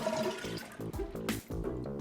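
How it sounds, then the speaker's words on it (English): A toilet tank flushes and drains during a leaking-toilet repair, with gurgling, rushing water in uneven bursts, close and fairly loud. "turn off the water and then flush the tank and hold it down until you drain it completely"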